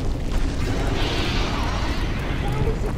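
A fiery eruption in the game Dark Souls Remastered, during a spider lady boss fight, roars as a loud, steady rumbling blast with a brighter whoosh swelling in the middle, sustained throughout without pause.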